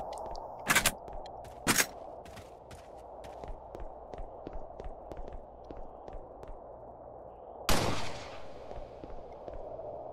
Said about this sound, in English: I like that, the ricochet